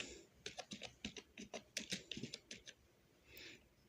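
Keys clatter on a computer keyboard in a quick, uneven run of about a dozen close taps, then a short pause and a softer final burst, with no voices over it.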